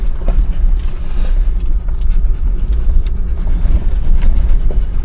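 A Jeepster driving along a dirt forest road in the Idaho woods, giving a steady low engine rumble with rattles and bumps from the uneven track, loud and close, no talk.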